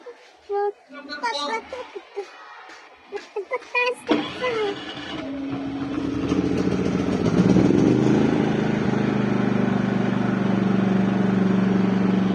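People talk briefly, then a PK4200 silent-type gasoline inverter generator starts and settles into a steady, loud droning hum that runs on without a break.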